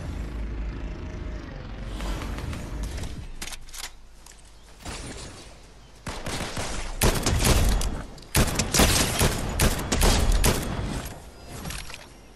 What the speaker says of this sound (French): on me tire dessus mais je sais pas d'où